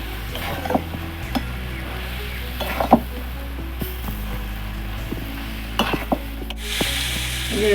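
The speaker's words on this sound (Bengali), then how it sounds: "এই ঝিঙেটার মধ্যে আলুটা তেলটা দিয়ে দিচ্ছি দিয়ে এবার নেড়ে চলে নেব" Ridge gourd and potato frying in oil, a steady close sizzle broken by scraping stirs of a spatula against the pan, with a few sharper clacks along the way and no talk.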